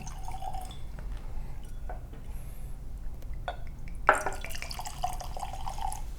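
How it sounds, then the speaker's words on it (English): Woodford Reserve bourbon whiskey trickles into a glass in soft drips and a brief splash, close and quiet over a low background hum. "I'll go pour mine."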